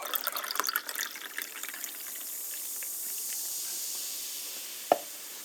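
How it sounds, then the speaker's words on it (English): Lemon lime fizzy water poured from a can into a cup, a bubbly splashing pour that fades into a soft, steady carbonation hiss, ending with a single sharp clink. "And last but not least, this can of lemon lime fizzy water."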